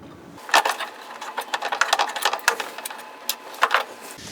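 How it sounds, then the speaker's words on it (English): Screws on a photo booth faceplate are loosened with a tool in quick close clicks and squeaky turning bursts, some bright metallic scrapes, then a brief pause and a final few clicks. "we just need to loosen these 4 screws."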